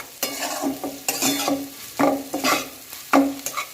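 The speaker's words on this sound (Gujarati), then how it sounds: "હવે આપણે આને બે ત્રણ મિનિટ સુધી આ જ રીતના શેકી લઈએ" Corn chevda roasts in oil over a low gas flame, rhythmic scraping strokes of a spatula repeating every half second or so over a soft sizzle.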